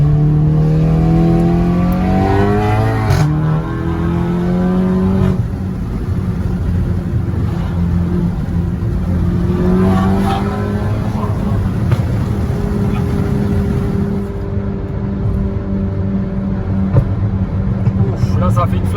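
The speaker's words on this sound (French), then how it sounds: "pour le plaisir des oreilles, une dernière petite accélération" A Volkswagen Golf 7 GTI tuned to Stage 3 with about 425 hp accelerates hard, its engine note climbing in rising sweeps before settling into a loud, sustained roar that lasts throughout.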